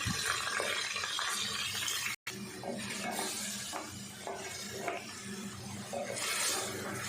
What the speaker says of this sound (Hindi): अच्छे से गोश्त को भून लेना है ताकि इसकी स्मेल ख़त्म हो जाए मसाले के साथ